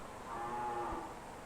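Cows moo on a farm, one low sustained call swelling and fading over a steady background hiss, close and alone.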